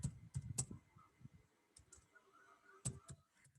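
Keys on a computer keyboard are tapped in quick, faint bursts of clicks with short pauses between them, close up in a quiet room.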